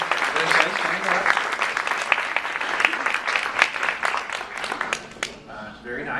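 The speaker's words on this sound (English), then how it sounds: "So a round of applause for them." A luncheon crowd at an accounting firm's employee awards applauds the event organizers, sustained dense clapping from a room of people with a voice speaking over it, fading slightly at the end.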